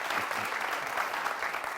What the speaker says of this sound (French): Je demande beaucoup d'applaudissements pour lui